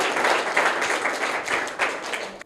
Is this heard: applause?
yes